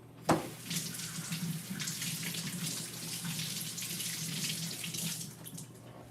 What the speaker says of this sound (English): I'm just going to rinse the banana off my hands.